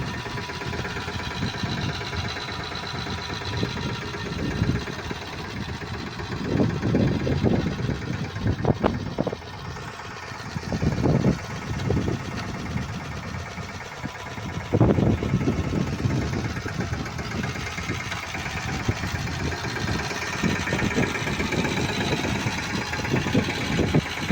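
A tractor-driven fodder harvesting machine runs nearby with a continuous low mechanical drone, punctuated by rhythmic clattering and knocking bursts as it works through the crop.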